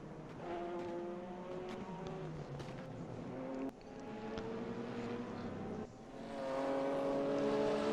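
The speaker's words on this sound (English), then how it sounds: "So you're going to hear a slight difference in engine note from those two cars." Race cars in a racing video game at Mid-Ohio, including a V6-engined car, rev and shift through the gears in a loud, continuous engine howl with rising pitch sweeps and two sharp gear-change dips, heard up close without talk.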